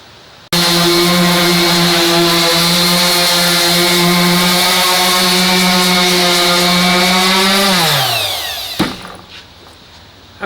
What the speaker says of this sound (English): I've just about finished the sanding.